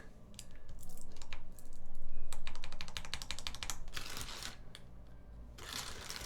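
Typing on a Seulgi TKL mechanical keyboard fitted with Tealios V2 switches: quick bursts of close, crisp keystrokes in clattering runs with short pauses between.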